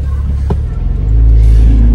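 A Porsche 911 Targa 4 GTS (991) pulls away, its low engine rumble swelling into a steady, loud drone heard from inside the car.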